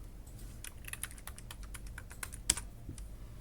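Quick, uneven keyboard typing as a command is pasted into a server terminal: a steady run of light, close clicks with one sharper keystroke near the end, and no talking.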